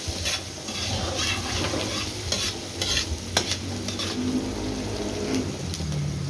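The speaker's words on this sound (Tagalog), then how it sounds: "Gisa na natin yung ating sibuyas." Onions sautéing in a hot pan for sisig, a steady close sizzle and frying hiss with occasional stirring scrapes against the pan, continuous and fairly loud, with no talking.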